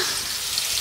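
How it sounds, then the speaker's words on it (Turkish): Meat fries in a pan, giving a steady close sizzle with bright crackling spatter that runs continuously through the brief moment, with no talk. "Ama yanına bir şey yapmadan sen hemen kızartmaya başladın."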